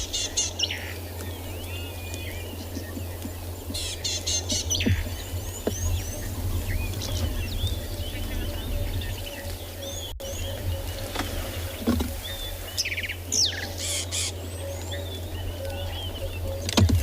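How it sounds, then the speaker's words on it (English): Wild birds at a South African safari reserve on a cold, wet November morning give scattered chirps and short calls at a distance, layered over a steady low background rumble. "Sound of the bird in the background as well"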